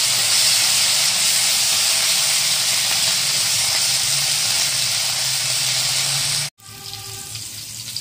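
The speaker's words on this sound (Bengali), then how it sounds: "ভেন্ডিটা লাল লাল করে ভেজে নেব।" Okra fries in a pan of hot oil with cumin, giving a continuous loud sizzling hiss that stays steady and then cuts off abruptly near the end, with no voices.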